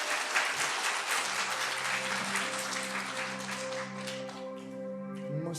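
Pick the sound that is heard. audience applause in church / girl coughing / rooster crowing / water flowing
audience applause in church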